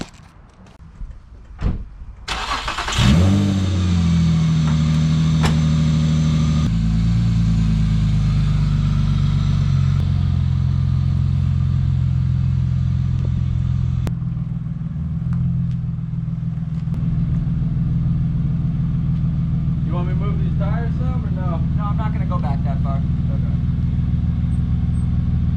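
A Nissan G35 engine cranks and fires up after a few clicks, then settles into a loud, steady, close running drone with a slight drop in pitch; someone talks briefly near the end.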